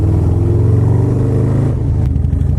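Loud, close car engine revving through a FAB 28 high performance exhaust pipe, a deep throaty drone that holds steady and then drops off sharply near the end, with no talking.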